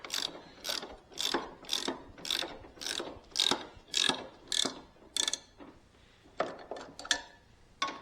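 A ratchet tightens a bolt on a lawn mower's lap bars, giving a close series of sharp metallic clicking bursts in a steady rhythm. The rhythm loosens and the bursts thin out toward the end.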